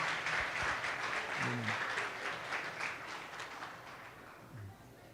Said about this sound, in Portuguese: Aplauda o Senhor pela vida deles mais uma vez.